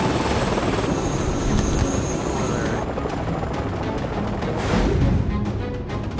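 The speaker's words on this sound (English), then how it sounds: "Helicopter coming in." Helicopter coming in over a remote jungle area of northern Thailand's Golden Triangle, a loud continuous rotor chop and roar that stays steady and close throughout.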